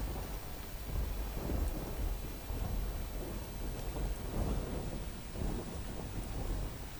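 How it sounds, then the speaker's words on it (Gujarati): Heavy pre-monsoon rain pours steadily in a dense wash of noise in Gandhidham, Kutch, with a low rumble of thunder rolling underneath. "અત્યારે જે રીતે વરસાદ વરસી રહ્યો છે"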